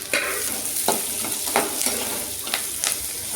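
Ginger and garlic sautéing with softened onions in a pan, a steady close sizzle broken by repeated scraping stirs of a spatula, no voices.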